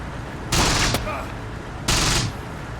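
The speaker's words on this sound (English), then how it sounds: "it's got to be an enemy MG" Enemy machine gun fire in the wartime video game Close Combat. Two loud, fast bursts cut through a steady background rumble, each lasting under half a second.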